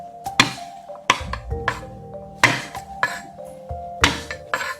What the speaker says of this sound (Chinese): 然后把这个蒜拍一下